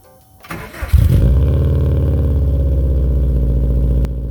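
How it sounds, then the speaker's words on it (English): A 2004 Subaru Impreza WRX TurboXS with a newly installed aftermarket exhaust cranks over and fires up, settling into a loud, steady, rumbling idle close to the tailpipe. "So this is what the exhaust sounds like now."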